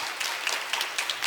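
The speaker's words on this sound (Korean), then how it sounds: "리키 킴 한국말 실력에 박수." A church evangelism festival audience gives a brief burst of applause, a fairly even patter of many hands clapping at moderate distance, lasting only about a second.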